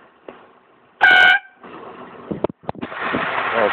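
An air horn fitted to a Honda Odyssey and fed by a compressor gives one loud, short close-range blast. Clattering handling noises and a rising rush of air follow.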